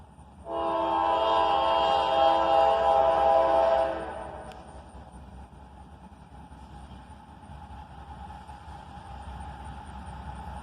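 Two AC44CW freight locomotives pass, the second still in older paint, sounding a steady loud horn chord for about three seconds. The horn cuts off and a continuous rumble of rolling cars carries on beneath.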